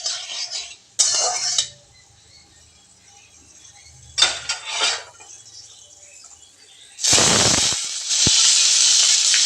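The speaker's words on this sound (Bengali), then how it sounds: "এখন এই যে আমি কালো জিরা ফোড়ন দিয়ে দিচ্ছি।" Black cumin (kalonji) tempered in hot oil with eggplant, tomato and potato: bursts of close sizzling and hissing, ending in a loud sustained sizzle, with light clinks of a utensil against the pan.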